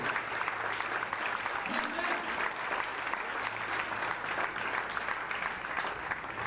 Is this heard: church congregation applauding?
yes